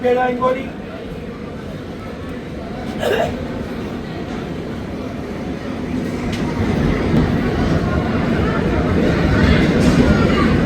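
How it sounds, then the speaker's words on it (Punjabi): A train bound for Dehradun pulls away from a station platform in Amritsar, its low rumble building steadily in the background while someone talks over it. "ਸਾਹਮਣੇ ਦੇਹਰਾਦੂਨ ਵਾਲੀ ਟ੍ਰੇਨ ਵੀ ਚੱਲ ਪਈ ਹੈ ਜੀ"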